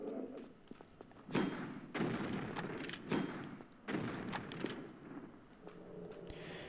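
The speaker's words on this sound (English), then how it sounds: "let's have fun with a grenade launcher." Grenade launcher shots in Tomb Raider: The Last Revelation, five or six muffled, booming thumps spaced about a second apart, each with a short rumbling tail, fairly faint and alone.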